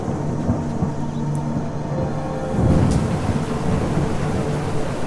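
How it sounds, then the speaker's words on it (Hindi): Thunder rumbles through a steady wash of heavy rain during a stormy night outside a roadside tea stall, with a louder roll swelling midway; no voices. "बाहर अभी भी तूफान चल रहा है और बिजली कड़क रही है।"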